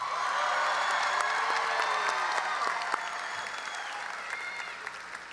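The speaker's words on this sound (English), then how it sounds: "The next person needs us to all do our very best when we cheer for her." An audience at a Round Rock school graduation ceremony applauds steadily, with scattered cheers and whoops rising over the dense clapping before it gradually thins out.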